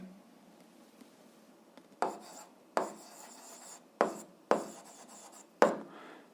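Sharp scratchy strokes of writing on a board or paper, five or six distinct bursts in an uneven rhythm, close and fairly quiet in a still room.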